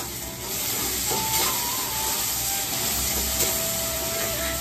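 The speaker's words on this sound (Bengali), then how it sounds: "পেছনে খুন্তি নাড়ছি, এদিকে চাল ধুচ্ছি।" A spatula scrapes and stirs meat in a frying pan, making a continuous loud rubbing hiss with steady sizzle and no pauses.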